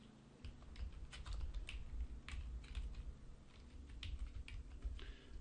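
Fingers type a password on a computer keyboard, giving a quick, uneven run of light key clicks close by over a faint background hum, with no talk.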